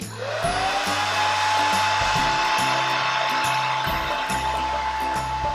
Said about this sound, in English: let the hot air blow out these sections